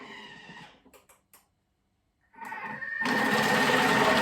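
A kitchen food processor with a vegetable cutter attachment slicing red cabbage thickly, starting with a brief whir and a few clicks, then after a pause revving into a loud, steady, close motor whine with a dense shredding hiss.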